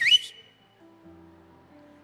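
A person whistles a short, rising shepherd's call once, bright and close, then it breaks off, leaving a faint low hum behind.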